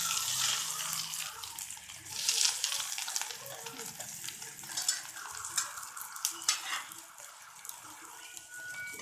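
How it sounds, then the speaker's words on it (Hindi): Bread slices fry in ghee on a tawa, giving a soft crackling sizzle with intermittent scraping and clinking bursts, moderately quiet and close, with no voices. "हमने तवा ले लिया, इसमें हमने घी डाल दिया है, घी से फ्राई करेंगे हम।"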